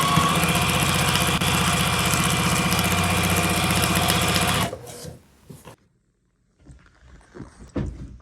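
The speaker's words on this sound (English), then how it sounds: "And then you're just going to sew all the way to the end and then just give it another back stitch." A sewing machine stitches quilt rows together with a fast, steady mechanical whir for several seconds, then stops. A few faint clicks and rustles follow in the quiet.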